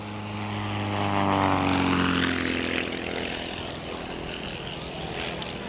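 Propeller aerobatic airplanes fly at an airshow in Sussex, their engines droning loudly and shifting in pitch as they pass overhead, with the roar swelling and then fading into a sustained distant drone.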